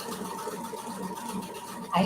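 A sewing machine stitching decorative pictogram stitches, giving a steady close mechanical whir for about two seconds, with a voice briefly over it.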